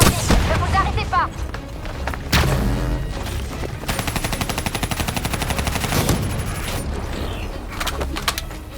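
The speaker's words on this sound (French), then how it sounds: "Tirez avec un lance-roquette avant qu'il ne se réactive" Call of Duty Black Ops 3 combat with a rocket launcher firing at a defensive system: a loud burst of gunfire and a blast near the start, then a rapid machine-gun rattle through the middle, with a voice calling out over the din.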